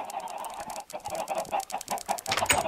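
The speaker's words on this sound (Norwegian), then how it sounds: "Her er det jo da like mye kyllinger." Chickens in the Minecraft video game cluck in quick, close, uneven bursts, several birds overlapping in a brief busy flurry.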